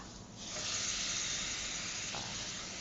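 Fish stir-fried in a pan with kaffir lime leaves for a sour bamboo shoot curry, a soft continuous sizzling hiss that swells after a quiet start and carries on steadily.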